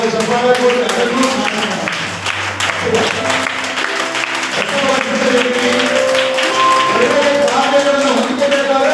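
A church congregation claps along through the whole stretch, the steady applause mixed with music and voices talking over it.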